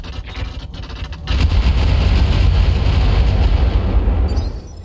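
Mech weapons unloading in a Roguetech battle, a loud, sustained roar of overlapping explosions and heavy fire that swells after a brief quieter start, then cuts off abruptly near the end.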